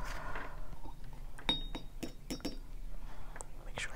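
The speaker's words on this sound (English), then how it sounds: "So let me just rinse off my pen nib here." A pen nib is rinsed in a small glass shot glass, giving faint, scattered clinks and light taps of metal against glass in a quiet room, with soft rustling between them.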